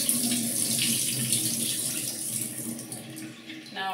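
Liquid is poured from a film developing tank into a sink, a steady splashing, trickling flow heard up close for a few seconds before it tapers off, with no talking.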